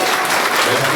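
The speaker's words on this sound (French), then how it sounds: "Ça s'applaudit." Members, colleagues and guests applaud at a trade union leader's investiture in Abidjan, a brief dense burst of crowd clapping, loud and continuous.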